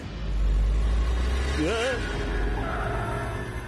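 A car pulling away with a steady low engine rumble that swells briefly and then holds, with a voice speaking over it in the middle.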